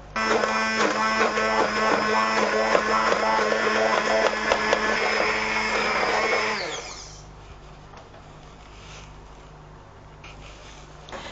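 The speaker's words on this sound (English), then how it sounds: "we're going to use a stick blender" A stick blender whirs loudly while blending broccoli soup in a cheap pan, its motor running steadily for about seven seconds before cutting out, leaving quieter room noise afterward.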